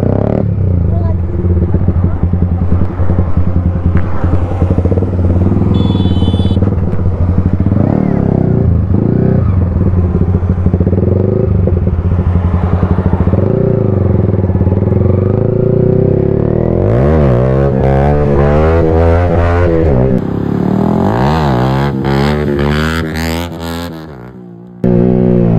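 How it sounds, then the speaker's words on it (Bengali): A Yamaha R15 V3 motorcycle engine revs loud and close during a wheelie, its pitch rising and falling in long pulls and surging near the end, while people talk over it. "হুইলি মারবো, দেখো তোমরা দেখো।"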